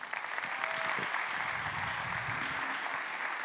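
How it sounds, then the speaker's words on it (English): A large audience at a Hague Talks event on climate action gives a full, sustained round of applause as the speaker Arjen Kapteins is welcomed to the stage, dense and steady throughout with a few voices beneath. "May we have the biggest round of applause, everyone, for Arjen Kapteins"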